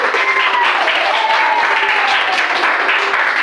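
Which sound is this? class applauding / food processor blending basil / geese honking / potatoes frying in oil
class applauding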